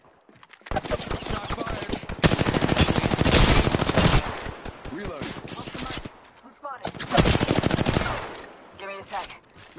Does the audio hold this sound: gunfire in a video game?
yes